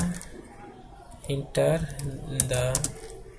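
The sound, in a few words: typing code on a computer keyboard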